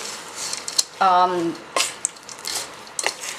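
Chocolate chip cookie dough stirred by hand in a bowl, with scattered scrapes and soft clunks of the utensil against the bowl, close by, plus a short hummed tone and brief voice sounds mixed in.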